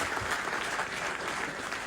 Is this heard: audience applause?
yes